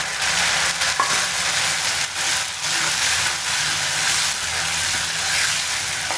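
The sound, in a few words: ground tomato sautéing in oil for garlic pepper kuzhambu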